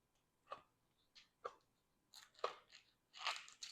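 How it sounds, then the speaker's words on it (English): Crisp bites and chewing of a Mexican pot pie with a tortilla crust, several sharp crunches spaced irregularly at close range, faint and alone with quiet gaps between. "So you hear it crunching?"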